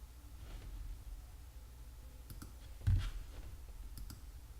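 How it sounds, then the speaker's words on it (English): A computer mouse clicks a few times, with faint, sharp clicks spread across a quiet stretch and one slightly louder click near the middle. No one talks. "then we're gonna click update"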